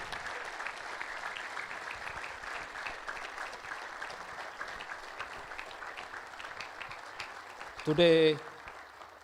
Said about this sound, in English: please give a massive round of applause for our presenter, Dr.